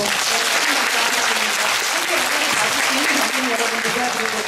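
An audience applauds after a post-screening Q&A at the Busan International Film Festival, a loud, dense and unbroken wash of clapping from a large crowd that fills the hall at an even level.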